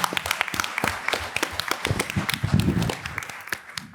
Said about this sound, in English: give them another round of applause as well